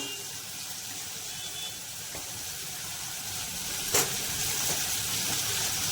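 Onions and tomatoes sauté in a pan for sambar, giving a steady, moderately loud broadband sizzle that runs the whole time, with a brief sharper clink partway through.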